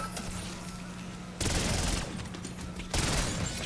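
A PPSh submachine gun firing in Black Ops 6 Zombies, two loud rapid bursts of automatic fire separated by a quieter stretch of game background.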